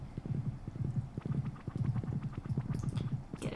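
Horse hooves clip-clop in the farming video game Stardew Valley, a steady run of evenly spaced clops at close range, sounding alone without talk.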